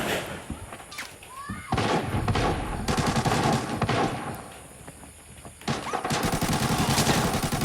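Gunfire in the shooter video game Arena Breakout, with repeated loud bursts and heavy shots crackling across the whole stretch, mixed with an excited voice shouting over the combat.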